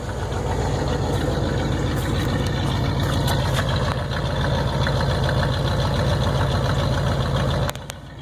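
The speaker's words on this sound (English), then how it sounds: "The exhaust noise." A 1981 Buick Electra Limited with a leaking muffler idles with a steady, rumbling exhaust drone and a throbbing low pulse, continuous and fairly close, briefly dipping at the very end.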